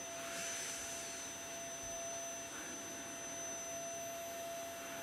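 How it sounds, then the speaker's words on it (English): A steady, faint whirring hum with a high whine runs throughout, like a vacuum cleaner running somewhere in the background. "ignore the noise in the background, that's vacuum cleaner"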